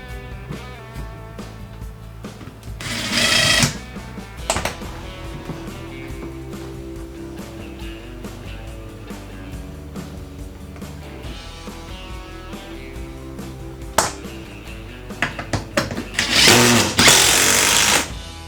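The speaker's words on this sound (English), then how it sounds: "Let's get our first screw in there." A power drill drives a screw while installing a western-style saloon door, whirring in short bursts near the start, mid-way and toward the end over a steady background hum.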